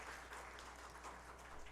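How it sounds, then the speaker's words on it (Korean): A church congregation applauds at a Sunday service, a faint, steady patter of many hands clapping at a distance, with no speech over it. "큰 박수로 해주십시오."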